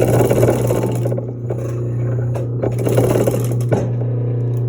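A Singer industrial sewing machine stitches through a strap, its motor humming steadily under rapid mechanical clatter of the needle, with brief pauses and restarts as the material is fed, close and fairly loud.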